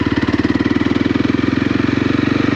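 A 2022 Honda CRF 300 L motorcycle cruises in fifth gear, its engine putting out a steady, even low thrum with a fast regular pulse, close and loud throughout.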